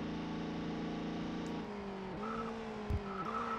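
Race cars in the ToCA World Touring Cars video game, a steady, droning engine note that shifts pitch as one car skids off and hits a wall with a brief thud, without voices.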